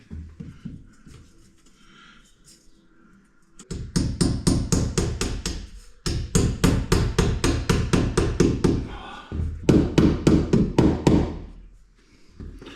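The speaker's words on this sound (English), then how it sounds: "You can hear the nails going in solidly." Nails are hammered through metal angle beads into plasterboard stuck to a wall with dabs of adhesive. Rapid runs of sharp, solid hammer blows come in several bursts, close and loud, with short pauses between them.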